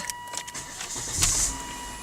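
An automatic Volvo S60 2.0 T engine cranks and catches in a quick start, a brief whirring burst then a rising idle, close and short with no talking.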